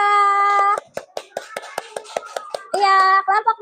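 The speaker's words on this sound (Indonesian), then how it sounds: "Beri tepuk tangan untuk kelompok mangga." Schoolchildren in a classroom clap in a quick, regular patterned rhythm of about a dozen sharp claps, framed before and after by children's voices chanting in unison.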